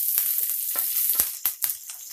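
Chopped green chillies and cumin seeds drop into a hot pan, sending up a steady bright sizzle with several sharp crackling bursts and spoon scrapes, close and clear, with no talking.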